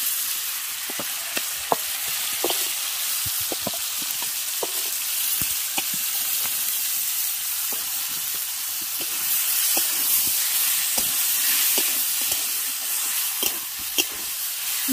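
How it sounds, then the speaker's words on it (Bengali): Marinated chicken pieces fry in hot oil, a loud continuous hissing sizzle spiked with frequent crackling pops and spatters throughout, heard up close with no talking. "তেল গরম হয়ে গেছে, এবার ম্যারিনেট করে রাখা চিকেনটা আমি এর মধ্যে দিয়ে দেব।"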